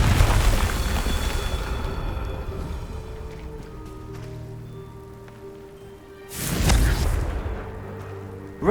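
A Confringo blasting spell in Hogwarts Legacy bursts as a loud fiery explosion after a fading rumble, followed by a crackling, rain-like spatter that trails off.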